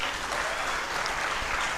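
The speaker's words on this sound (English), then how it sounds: "Please, ladies, clap for yourselves." Steady applause from a crowd, dense clapping filling the whole stretch at a fairly even level.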